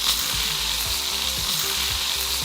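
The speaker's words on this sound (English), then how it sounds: "For our steak, we're gonna start by going with just a little bit of oil. Then, once that oil begins to reach a smoke point, in we go." Steak sears in hot oil in a pan, a loud, dense, continuous sizzle with faint rhythmic crackles underneath.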